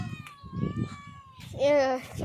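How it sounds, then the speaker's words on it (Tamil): Pet cat meowing indoors at home, a short drawn-out meow rising near the end, heard close after some earlier chatter, with a person speaking nearby. "அதுதான் எங்களுடைய பூனை"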